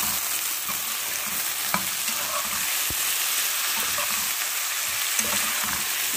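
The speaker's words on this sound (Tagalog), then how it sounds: "Mainit na yung kawali guys. Ilagay ko yung sibuyas at saka yung bawang." Onion and garlic sizzle steadily in a hot pan for chicken adobo, with a bright, constant frying hiss and a few stirring clicks and scrapes over it.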